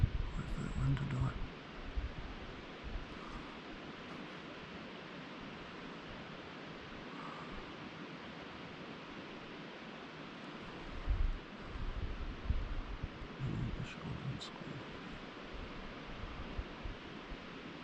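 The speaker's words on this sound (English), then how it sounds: "Wait for that wind to die." Wind rushing across open country during a red stag hunt in New Zealand: a steady, faint broadband roar with low rumbling gusts buffeting near the start and again around the eleventh to fifteenth seconds.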